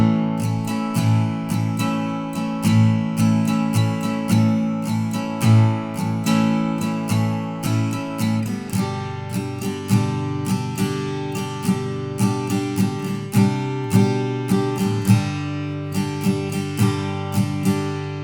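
An acoustic guitar strummed in a steady rhythm through the pre-chorus chord progression of a song, with bright, ringing strokes, no voices.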